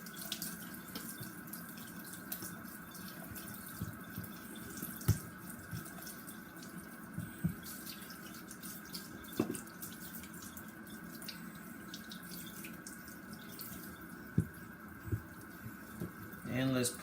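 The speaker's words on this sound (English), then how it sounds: "Let's rinse her off." Kitchen tap running steadily into a sink as a knife is rinsed during sharpening on Japanese natural stones, with a constant water rush and a few small clinks and splashes.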